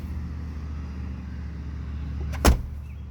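A single solid car door thud from a 1990 Mitsubishi Sigma 3000 V6 near the end, heard over a low, steady background rumble.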